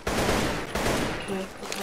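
Brief automatic fire from an AK rifle in a Roblox gun game, a loud, rapid burst that breaks off at about three quarters of a second and then resumes, with faint game tones underneath.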